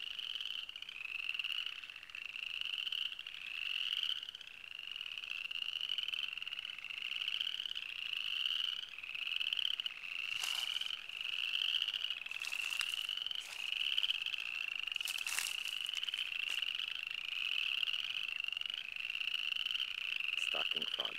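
Southern chorus frogs call from a pond in Posey County, Indiana, in a dense, continuous chorus of rising raspy trills, with a few louder, nearer calls standing out.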